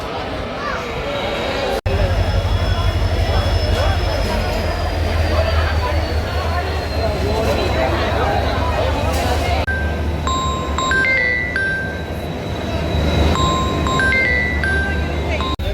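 A dense crowd alongside a train at Mantralayam station, with loud continuous babble and bustle throughout and thin electronic tones and beeps cutting through in the second half.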